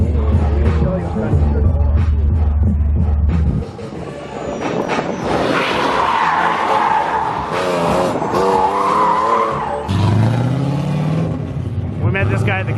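A car drifts on a track during a parade lap, engine roaring and tires squealing in long rising and falling waves, with people talking loudly over it nearby.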